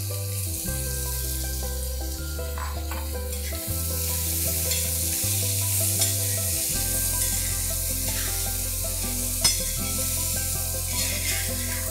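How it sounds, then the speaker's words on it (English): Three sliced medium onions fry in a pan for an Old Delhi style mutton biryani, a steady close sizzle with occasional stirring scrapes and no talking. "now we need to add 3 medium-sized onions sliced. And we have to fry them till they are golden brown in color."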